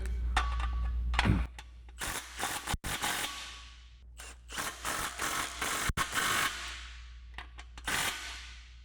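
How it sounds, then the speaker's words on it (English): A 15mm wrench tightens the exhaust clamps on a 2015-2023 Mustang EcoBoost Borla cat-back exhaust, heard as bursts of close metallic ratcheting and clicking in uneven spurts, with a couple of sharp clanks and short pauses. "using our 15mm up front, we'll tighten that front clamp down"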